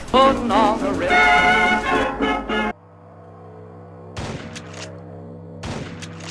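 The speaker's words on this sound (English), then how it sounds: "You just run around shooting stuff" Gunfire in the top-down shooter Crimsonland crackles in dense rapid bursts over game music, breaks off into a low hum, then returns in two shorter volleys.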